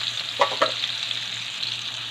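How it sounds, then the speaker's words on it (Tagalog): Potatoes and carrots fry in a pan for a chicken pineapple dish, giving a steady close sizzle broken by a couple of quick stirring scrapes, with no talking. "Iprito natin yung patatas at carrots. Kaya natin magkulay brown."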